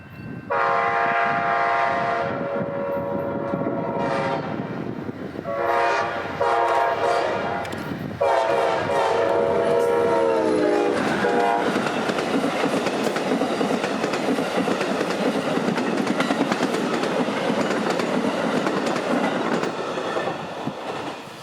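Amtrak train 91 heading south toward Miami in central Florida, its loud horn blaring in several long blasts before the rumble and clatter of the passing cars fills the rest of the pass, close by.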